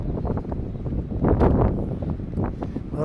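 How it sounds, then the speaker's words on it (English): Wind gusts through a downtown street on a cold noon walk, a low continuous rumble and buffeting on the microphone that swells to a stronger gust midway. "A little more wind right here because it's coming."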